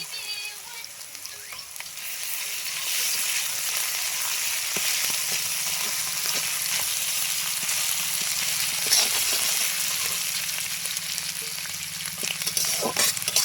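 Onion frying in a pan with garlic paste and ginger paste added, a steady close sizzle that runs continuously with faint stirring clicks and no talk.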